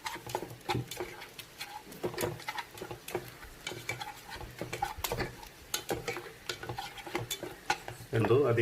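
Blended tomato stirred into onions frying in a pan for a yoghurt chicken curry, with steady sizzling and repeated scraping stir strokes close by, a louder burst near the end.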